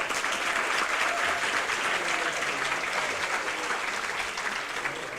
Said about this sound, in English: please give yourself a big applause